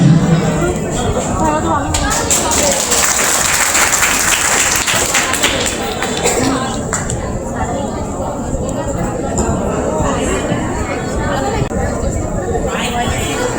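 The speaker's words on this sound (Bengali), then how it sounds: "অনুষ্ঠান ভালো করতে লাগে দর্শকের কিন্তু হাতের তালি।" Audience clapping at a college freshers' welcome event in a chemistry department hall, a dense, loud burst of applause that gradually thins out, with crowd chatter and voices talking over it.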